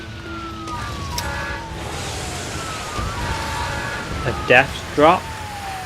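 Emergency vehicle sirens in the SimCity city-building game, several wailing tones gliding up and down under someone talking, followed by two short, loud electronic bursts near the end.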